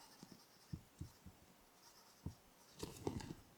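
Moonman Wancai Mini fountain pen with a fine nib writing on paper, faint close scratching strokes in short separate bursts, quiet and alone.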